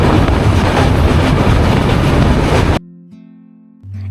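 A passenger train, the Shalimar to Puri Dhauli Express, rumbles loudly along the rails with dense clatter, then cuts off abruptly to near quiet with a low steady hum.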